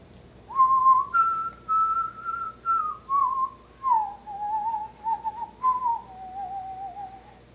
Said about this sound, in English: all at once he heard someone whistling a tune